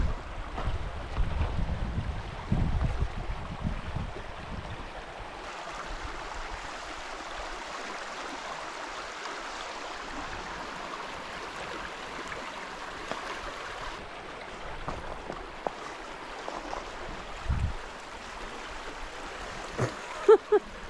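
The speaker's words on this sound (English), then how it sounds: "We're at the next stream crossing." A stream flows at a crossing on the River to River Trail, a steady broadband wash of running water with wind gusts buffeting the microphone and a few low thumps from footsteps, heard outdoors at moderate level.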